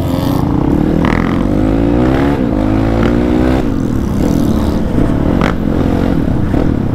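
Motorcycle engines roar loudly through a tunnel, a dense echoing drone with rising revs and shifting pitch as the bikes ride in a group, constant and close throughout.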